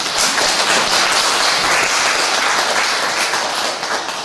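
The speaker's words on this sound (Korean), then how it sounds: "저때 축복받은 짐바브웨 식구들을 위해서 박수 한번 쳐주세요" A large gathered congregation claps loudly and continuously in honour of members from Zimbabwe, a dense, even wash of applause with no voices over it.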